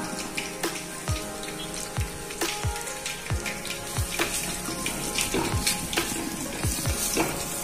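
Prawns and onions sautéing in a pan with ground pepper powder, a close continuous sizzle broken by repeated scraping strokes of a spatula in an uneven rhythm.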